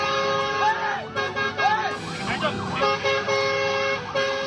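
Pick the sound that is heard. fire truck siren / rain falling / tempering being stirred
fire truck siren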